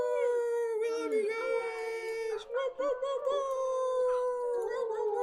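A group of people voice a drawn-out imitation of a wolf howl at a full moon ceremony. Several overlapping voices rise and waver together in one long, loud, sustained howl.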